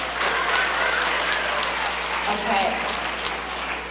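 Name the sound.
schoolchildren applauding a student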